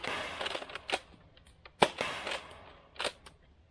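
A modified Nerf Rival Saturn blaster, set up as a tactical shotgun, fires several sharp snapping shots at uneven intervals, close and crisp with short quiet gaps between them.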